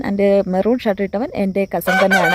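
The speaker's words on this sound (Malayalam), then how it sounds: "അപ്പോൾ ഇവിടെ നിന്നൊരു കോഴി കൂകുന്നുണ്ട്" A rooster crows nearby, its call overlapping with someone talking in the foreground.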